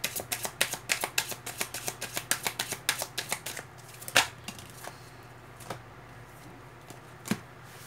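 Tarot cards shuffled and drawn by hand, a quick run of crisp riffling snaps and taps that slows into a few isolated card flicks, close and quiet with no talking.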